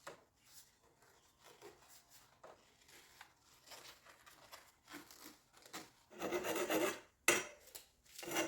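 A pipe cutter scrapes around a water pipe while a whole-house water filtration system is being fitted. The rasping strokes are close and fairly quiet, then turn louder and more continuous toward the end.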